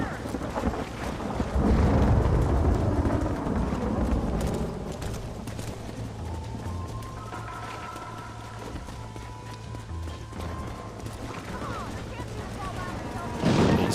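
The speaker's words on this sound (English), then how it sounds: "It's difficult to hear you through the storm" A thunderstorm in Red Dead Redemption rumbles with deep, rolling thunder and steady wind. Horse hooves clatter faintly underneath, and a voice speaks briefly during the storm.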